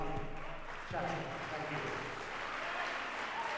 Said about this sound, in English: you can hear the crowd. They're actually supporting the referees there.